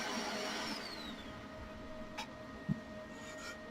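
A Creality K1 Max 3D printer runs its pre-print routine, giving a quiet mechanical whir with steady tonal motor hums, a descending stepper whine early on, and a couple of brief clicks and taps.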